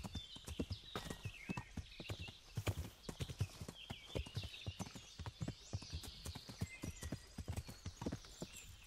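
Horse hooves clip-clop in steady rhythm while riding in Kingdom Come: Deliverance, close and continuous with occasional whinny-like tones, over ambient game sound.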